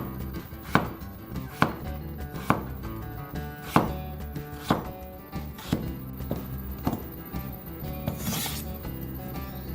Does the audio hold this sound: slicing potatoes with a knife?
yes